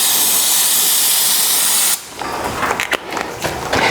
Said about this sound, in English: And we'll rinse everything off over here, again, so we can tell if there's any leaks in the future.